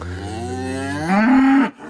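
A calf on a farm moos loudly and close by, one long drawn-out call that rises in pitch near the end before cutting off.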